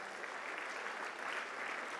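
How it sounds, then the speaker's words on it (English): A church congregation at an ICGC Holy Ghost Temple prophetic service claps together, a brief, fairly soft run of steady, dense hand clapping with a faint crowd murmur beneath. "Pray, clap for them, clap for them"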